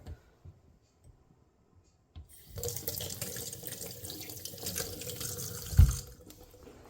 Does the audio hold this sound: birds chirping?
no